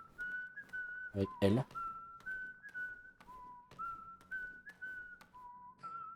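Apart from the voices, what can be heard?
whistling in Donkey Kong Bananza video game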